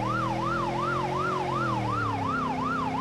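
Police car siren in the driving game BeamNG.drive, a rapid wailing yelp rising and falling about twice a second, loud and continuous over a low vehicle engine hum, with no talk.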